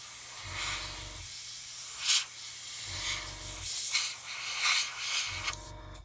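An airbrush hisses out paint in soft, uneven spurts over a steady background hum, with short pulses of a machine drone repeating underneath.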